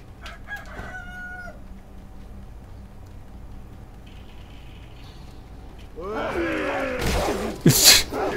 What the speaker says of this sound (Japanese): ここのニワトリ強いんだよな